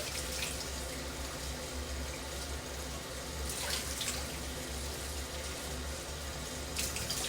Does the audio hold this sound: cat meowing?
no